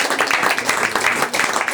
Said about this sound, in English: We can give him an applause now as well.